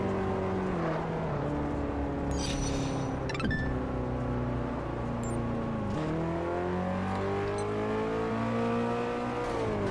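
Porsche driven in Test Drive Unlimited 2, a continuous engine note climbing in pitch through repeated gear shifts, loud and close with brief clicks, no talking.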